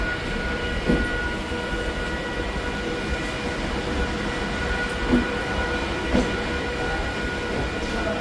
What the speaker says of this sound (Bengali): ট্রেন অলরেডি ঢুকে গেছে